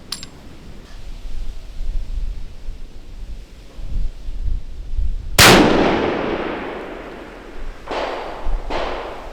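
A Weatherby Vanguard Talon rifle fires one loud, sharp shot at a steel target during elk-hunt practice, and the blast trails off in a long outdoor echo. Two fainter, shorter cracks follow a few seconds later, with wind noise underneath throughout.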